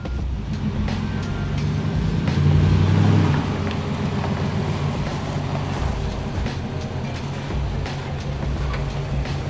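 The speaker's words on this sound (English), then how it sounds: "just gotta turn my truck around" A '64 rat rod lowrider truck idles and turns around, a steady low engine rumble that swells briefly early on and then settles into a constant drone.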